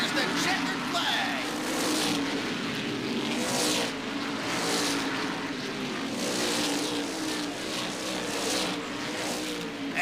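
Race cars thunder past toward the finish of the annual Turkey Derby, a steady, dense engine roar holding loud throughout with rising and falling passes, under a commentator's voice.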